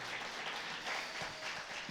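Church congregation applauding during a Spanish-language sermon, a soft, continuous wash of clapping heard from a distance and fairly faint.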